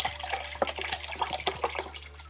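Apple cider vinegar poured into a cooking pot for soy sauce pickled eggs, a steady splashing liquid stream with small irregular spatters, close and alone.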